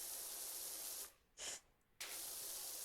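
A spray bottle gives one short, crisp spritz of soap. Before and after it, a steady hiss of running water stops and then starts again.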